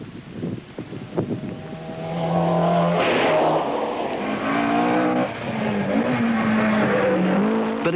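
A borrowed Ford RS2000 rally car on the Glengorm stage of the Tour of Mull rally, with a loud, sustained engine note that rises and shifts through the gears, accompanied by wind noise.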